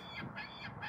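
A bird gives a few faint, goose-like honks in quick succession, heard from a distance outside a 2005 Mazdaspeed Miata.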